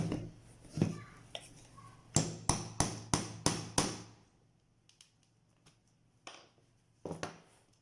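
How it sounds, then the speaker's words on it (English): A punch is hammered into gathered fabric slipper material to make a hole, with six sharp, evenly spaced strikes in quick succession, then scattered lighter taps and handling sounds, close and clear. "then use my punch at that particular spot."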